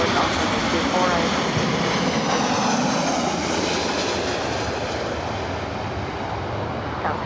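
A Delta airliner arriving from SFO passes at LAX with a loud, continuous engine roar and whine that sweeps in pitch as it goes by, then eases slightly toward the end.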